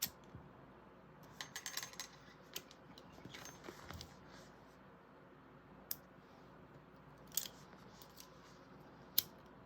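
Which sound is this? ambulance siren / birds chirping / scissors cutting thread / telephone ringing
scissors cutting thread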